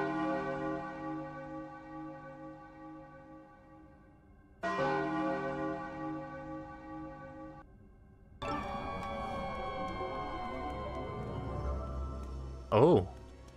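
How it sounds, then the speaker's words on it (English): In the video game A Hat In Time, a deep resonant bell tolls three times, each strike ringing out with a long sustained hum, the last followed by a brief bright chime, with no voices. "I've got a better bell sound effect for you."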